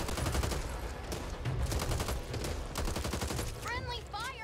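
Dense, continuous gunfire from the zombie shooter game Back 4 Blood, overlapping rapid shots close and loud, with a brief electronic chirping effect near the end.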